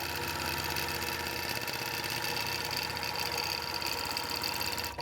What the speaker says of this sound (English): I'm going to do a stylized heart, and I'm sewing in constant.